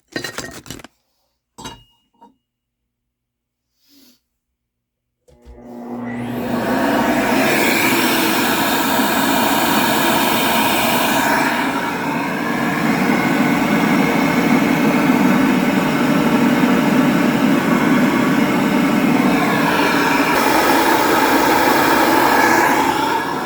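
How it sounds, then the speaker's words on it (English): A cylinder head port is ground with a steady, loud, high-pitched whirring grinder that runs continuously for about eighteen seconds after a few quiet clinks and taps, with a slight dip in pitch near the middle. "And then I'm going to start grinding."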